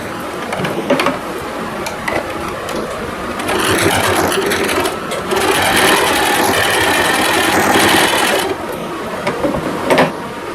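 Sewing machine running in steady bursts while stitching down the pleats of a lehenga, with a longer continuous run in the middle, close and fairly loud, and no talk over it.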